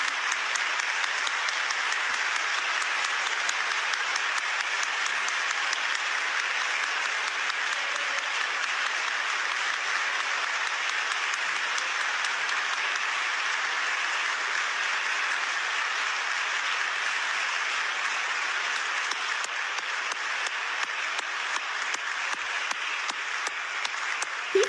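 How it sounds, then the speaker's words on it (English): A large crowd claps continuously at a public event, a sustained, uniform roar of applause that holds steady from start to finish with no pauses. "He's clapping hard."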